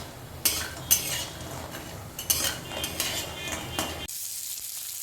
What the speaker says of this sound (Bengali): কড়াইতে প্রথম তেল গরম করে সর্ষের তেল গরম করে আমি বড়িগুলো ভেজে নিচ্ছি